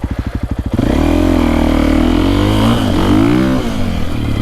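A Husqvarna FE450 four-stroke dirt bike with a cam, Akrapovič slip-on exhaust with spark arrestor and green map idles in a brief chugging pulse, then revs hard and pulls away, its loud, close engine rising and holding in a throaty drone.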